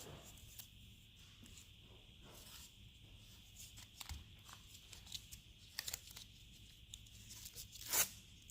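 A strip of washi tape is peeled and torn off a brand new roll, giving soft, faint crackles and ripping sounds in short bursts. A louder tear comes near the end, close by in a quiet room.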